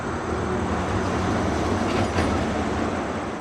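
Steady, loud broadband roar of heavy traffic on the I-75 highway, continuous and unbroken with no voices, rising slightly in intensity partway through.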